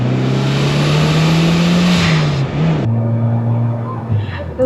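Mitsubishi EVO X turbo engine revving hard up close, a loud rising and falling engine note that cuts off abruptly, then drops back to a lower idle with a faint voice underneath.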